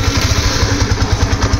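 A 2022 Yamaha FZS version 3 motorcycle engine runs at a steady idle, its close, loud, even low-pitched pulsing holding without pause and with no talk over it.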